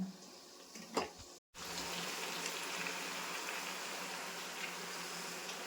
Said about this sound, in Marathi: चला मग आपण आता थोडं थोडं करून हे तळून घेऊया।